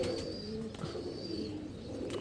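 Sialkoti inbred pigeons coo close by, with a few soft, rolling calls repeating over quiet background noise.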